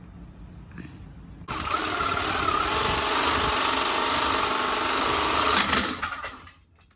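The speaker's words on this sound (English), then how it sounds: "that's a Sawzall, and that's how we're getting rid of that" A Sawzall reciprocating saw starts abruptly and cuts through a metal part on a Harley-Davidson Sportster 1200 motorcycle, a loud, steady buzzing rasp lasting about four seconds before winding down.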